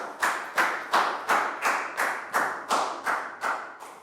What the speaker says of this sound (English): Big round of applause for Lasgow.